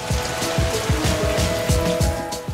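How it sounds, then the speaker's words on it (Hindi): Heavy rain falls in Hyderabad, a loud continuous wash with rhythmic low thumps repeating roughly every third of a second and a faint tonal hum, no speech. "हैदराबाद में दूसरे रोज भी बारिश जारी रही।"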